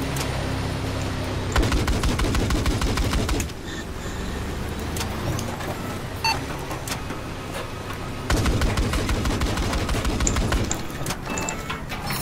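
Sustained bursts of heavy automatic gunfire from a gunship in Battlefield 4 roar in two loud stretches with a quieter rumbling lull between them, dense and continuous with no talking.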